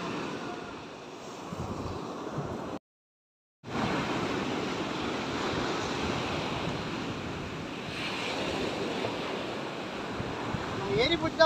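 Sea waves wash steadily onto a beach during mole crab hunting, with a continuous loud surf roar and wind buffeting the microphone, broken by one short dropout of silence.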